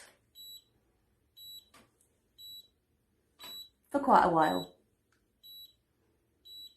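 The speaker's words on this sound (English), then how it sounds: "it winds up, winds, and then it beeps" High electronic beeps from a Wylera Hair Dreamwave styler repeat at a steady, spaced rhythm, faint and close, with a short burst of speech breaking in midway.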